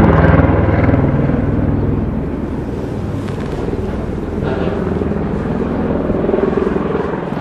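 A working helicopter flies near the Matterhorn at roughly 3,800 m, its loud, steady rotor and engine drone filling the whole stretch with constant low rumble and wind buffeting, and no speech.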